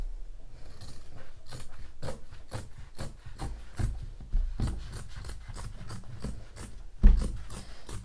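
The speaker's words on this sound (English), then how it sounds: "I'm just going to snip it across." Scissors snip across fabric for a doily pillow in a run of short, close, crisp cuts with an irregular rhythm and no talking.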